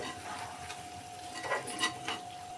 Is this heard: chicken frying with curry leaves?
yes